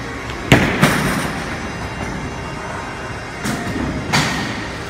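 A bowling ball bowled blindfolded at a bowling alley rolls and drops into the gutter, giving sharp clattering knocks in two pairs over a steady rumbling background noise.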